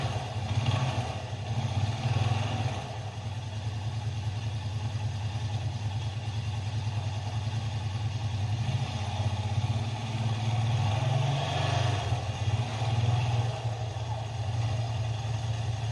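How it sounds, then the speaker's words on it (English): Honda TRX500 Rubicon ATV with Hondamatic transmission running in neutral, a steady low idling rumble with light mechanical clatter, close and continuous, swelling slightly now and then. "To initialize the Rubicon, start by running the engine for at least 30 seconds in neutral."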